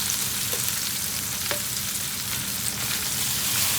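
Eggs fry in an electric skillet with a continuous close sizzle, a couple of brief scraping clicks standing out against the steady hiss.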